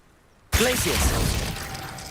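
A Glacius ice spell cast in the game Hogwarts Legacy bursts in abruptly after near silence, a loud crackling, shattering burst of icy noise that stays dense and bright before slowly easing, with a voice briefly heard within it.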